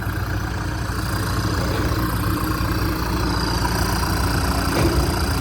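Kubota M6240 SUH tractor fitted with a modified exhaust, idling steadily with a deep, continuous rumble close by and a slight engine swell near the end; no talking.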